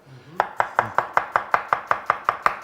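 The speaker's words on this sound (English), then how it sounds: "Shredding can also be cutting the onion that way and making the half moons that way." A knife cuts through an onion on a cutting board to shred it into half moons, making about a dozen sharp, evenly spaced chops in quick rhythm, close and clear with no talking.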